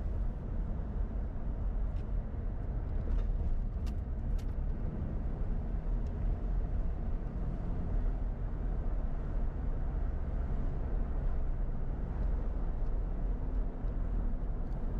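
A car rolls steadily along a one-lane road through a tunnel of trees hung with Spanish moss, giving a continuous low road rumble and engine hum with no voices.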